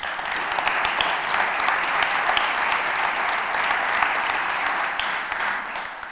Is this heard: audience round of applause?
yes